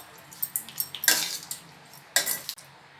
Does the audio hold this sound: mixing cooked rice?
yes